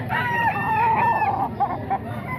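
Several roosters crowing at a busy cockfighting chicken market at a grotto, overlapping close crows with clucking over a murmur of market noise.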